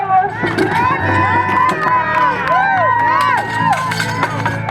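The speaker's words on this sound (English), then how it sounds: "Cheer your lumberjack on all the way through." Spectators at a lumberjack show competition at the Kern County Fair shout and cheer loudly and continuously, with excited whoops and voices rising and falling close by throughout.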